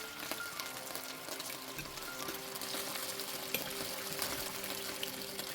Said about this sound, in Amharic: ስጋውን ትንሽ እሳት ለማስነካት ያህል ነው፣ ብዙ አላበስለውም።